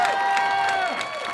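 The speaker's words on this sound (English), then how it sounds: "Give him a big round of applause." A crowd at a marching band senior night applauds and cheers for the band director, with loud sustained clapping, whoops and shrill whistling voices in a big gathering.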